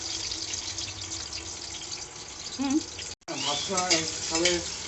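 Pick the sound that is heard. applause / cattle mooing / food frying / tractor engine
food frying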